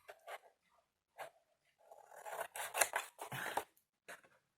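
Scissors cut in short snips and a longer run of crisp slicing strokes, close and clear in a quiet room, with pauses between the cuts.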